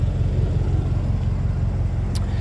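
Deep, steady exhaust rumble from a BMW X5 M with quad exhaust pipes idles close by, a low continuous drone with one brief sharp click near the end.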